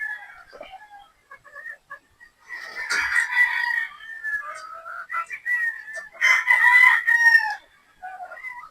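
Game fowl pullets, a 3/4 sweater and 1/4 Boston cross on a game farm, crow and cluck in close repeated bursts, some overlapping, with quiet gaps in between.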